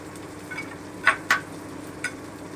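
Onion, garlic and chili paste sauté in a pan for chicken kosha, giving a soft, steady sizzle. A few quiet scraping clicks from stirring break through it, and no one speaks.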